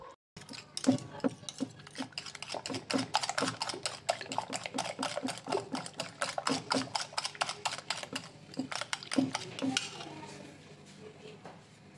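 Eggs whisked briskly with spices in a bowl for bread pakoda, a steady run of quick close clicking and tapping strokes against the bowl sides, continuing for several seconds before easing off near the end.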